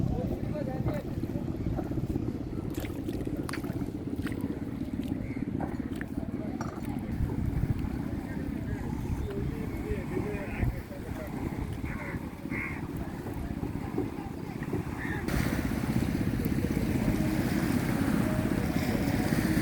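A motorized fishing boat on a river, its engine throbbing in a steady low rumble, with water and wind noise and occasional clatter. Voices talk faintly under the engine, which grows louder near the end.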